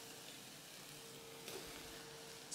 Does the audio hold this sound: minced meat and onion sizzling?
yes